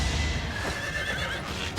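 A horse in the video game Fire Emblem: Three Houses lets out a single loud, close whinny that rises and falls over a couple of seconds, with faint hoof clops underneath.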